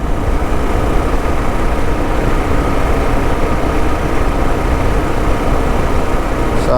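A car engine hums steadily and loudly as the car cruises at 90 at about 3,500 revs on an early morning drive, a constant low drone with road noise and no speech.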